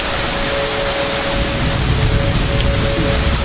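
Heavy rain pours steadily during a supercell storm near a house in St. Louis, Missouri, a loud, dense, unbroken hiss of falling water with a deeper rumble beneath.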